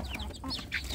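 Young village chicks (ayam kampung) kept in a box let out a few quick, high peeps in a short, faint burst, close by and with no one speaking.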